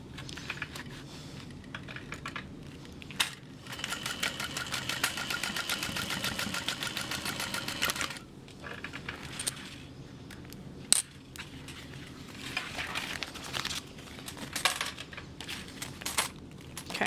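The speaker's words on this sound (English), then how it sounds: "So we'll fold this down, top stitch that in place." A sewing machine top stitches a stadium bag, running in a fast rapid patter for several seconds, then in shorter intermittent bursts amid handling clicks and a sharp metallic tap.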